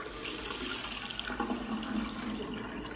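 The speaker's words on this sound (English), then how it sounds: "And later we need to check is water tap working well." A kitchen or bathroom water tap runs steadily into a sink during a hotel checkout-room inspection, a continuous close hiss of splashing water lasting throughout with no talk.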